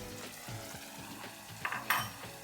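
A yogurt and spice mix sizzles and fries steadily in a pan for a Bengali katla fish curry, with soft stirring scrapes and a couple of brief louder clinks near the end.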